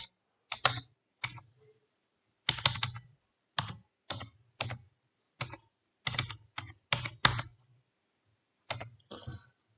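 Irregular bursts of keyboard typing, crisp clicks in short clusters separated by pauses, close and fairly quiet with no voices.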